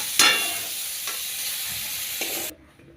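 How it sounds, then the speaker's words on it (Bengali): Potatoes sizzle in hot oil and are stirred, with a scrape of the utensil near the start. A steady frying hiss runs until it suddenly drops away near the end. "এবার ওই তেলে আলু দিয়ে দিচ্ছি, আলুটাকেও ভেজে তুলে নেবো।"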